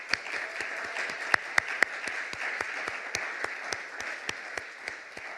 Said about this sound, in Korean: 생각보다 큰 박수 소리가 나와서 감사합니다